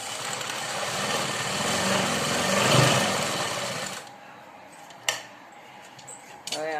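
Sewing machine stitching the fall back onto a sari, with a fast steady mechanical whir for about four seconds that then stops, followed by a few sharp clicks and handling sounds nearby.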